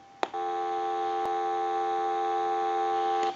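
A General Electric 27909 cordless telephone gives a steady, unbroken dial tone. It starts with a click and holds evenly for about three seconds before cutting off, loud and close with no voices.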